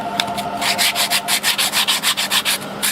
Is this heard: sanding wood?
yes